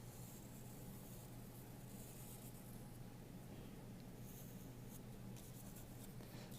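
Pencil tracing around a shape on paper, a soft continuous scratching and rubbing that goes on steadily, quiet and close with no talking.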